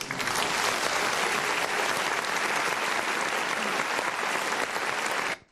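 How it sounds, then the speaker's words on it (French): An audience applauds steadily, a dense wash of clapping that holds evenly for several seconds before stopping abruptly. "Est-ce qu'on peut l'applaudir, cher public?"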